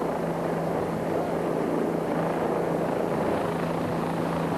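Steady, close thudding rotor beat of a helicopter hovering and maneuvering beside live power lines and a steel-girder pylon, continuous and unbroken with no voices.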